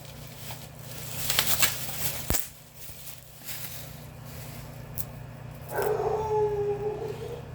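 A dog howls at another dog out on the street, a drawn-out tonal howl rising near the end after scattered rustling and a sharp knock earlier, fairly close and moderately loud with no talking.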